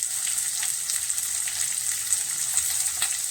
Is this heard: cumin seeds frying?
yes